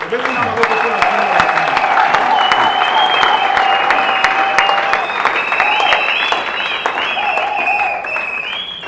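A church congregation breaks into loud, sustained applause and cheering at a worship service, dense clapping filling the room without pause, with raised voices and shouts carried over it.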